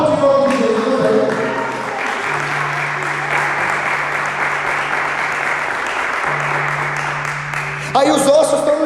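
A church congregation claps during a sermon, a steady, dense wash of applause over a sustained low organ or keyboard tone, with a voice breaking in near the end.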